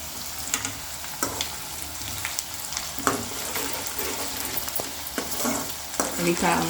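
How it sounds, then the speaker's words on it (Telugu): Onions frying for chicken dum biryani, with a steady close sizzle broken by repeated scraping stirs of a spoon against the pan, no talking. "ఇది ఉల్లిపాయ దగ్గర ఉండి వేయించుకోవాలండి"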